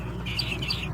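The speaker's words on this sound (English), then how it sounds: "The Fortis song above sounds like this." A brief Geospiza fortis ground finch song, a short run of clear high whistled notes sounding alone over low background hum.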